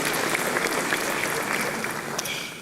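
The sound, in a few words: audience applause at a law school lecture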